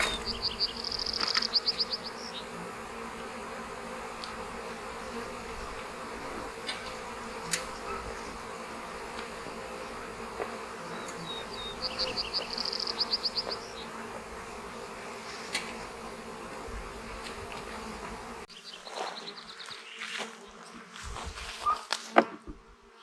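Honey bees buzz in a dense, steady drone as they are shaken out of nuc boxes, close and continuous, with a few louder swells and a quieter stretch near the end.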